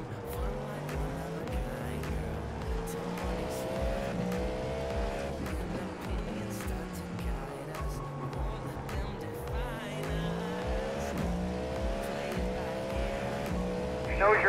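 A Cadillac V-Series.R GTP prototype race car drones steadily around the Circuit of the Americas in an IMSA endurance racing game, with engine pitch rising and falling through gear changes as other cars pass, under continuous talk.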